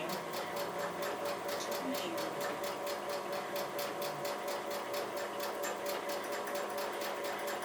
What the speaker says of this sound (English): So as my needle goes down, the yarn gets caught in the stitching.